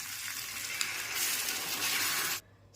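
Marinated fish pieces hit hot tamarind juice for a fish curry, giving a steady loud sizzle with a small clink partway through, then the sizzling drops away abruptly near the end.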